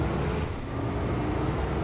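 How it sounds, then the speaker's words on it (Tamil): A bus in the Bus Simulator Indonesia game pulls away with a steady, loud engine drone and road rumble that hold unchanged throughout, with no voices. "வண்டி கிளம்புது."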